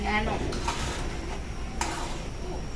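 Sticky rice with sugar and coconut milk stirred in a pot for biko, a spoon scraping and clinking against metal in uneven strokes, with light sizzle and a voice talking faintly underneath.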